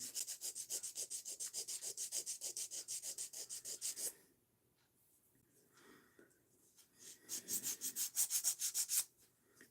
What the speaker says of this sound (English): So right now I'm filing the other finger.